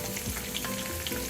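Cumin seeds, three dried red chillies and chopped onion frying in hot oil for a fish dish, giving a steady, close, even sizzle that runs without a break and with no voices.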